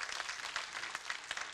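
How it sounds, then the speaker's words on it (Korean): Congregation applause for a church choir after a Christmas worship performance, a steady wash of many hands clapping at moderate distance, fairly faint and continuous throughout. "하나님께 영광의 박수 한번 올려드리겠습니다"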